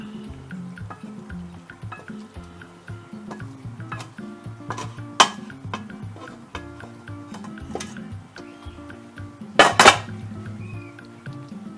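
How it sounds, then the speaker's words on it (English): Gizzard and cabbage stew being served with plain boiled rice onto a plate: sparse clinks and scrapes of a spoon against dishes and pots, with two sharper clatters, fairly close and without talk. "So I'm coming to serve some of my gizzard and cabbage stew with my plain boiled rice."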